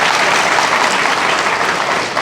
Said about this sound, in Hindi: ताली बजाइए माननीय जज साहब के लिए